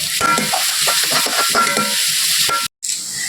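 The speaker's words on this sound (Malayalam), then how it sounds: "ഒരു 2 പച്ചമുളക് ഇട്ട് ഒരുമിച്ച് വാട്ടിയെടുക്കാം" Green chilies with crushed garlic and ginger sauté in a hot pan, a loud continuous sizzle broken by scraping stirs of a spoon, with a brief gap near the end.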